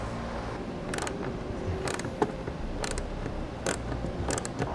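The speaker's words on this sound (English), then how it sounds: "Then we'll thread on another hex nut, and then we'll just tighten it down securely." A wrench tightening a hex nut on an Air Lift LoadLifter 7500 XL air helper spring on a 2017 Chevrolet, giving a run of sharp metallic ratcheting clicks over a steady background hum, close by, with no talking.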